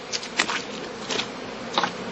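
Honey bees buzz around heather skeps in a heathland apiary, a close, steady drone with several passing swells as individual bees fly near. No voices.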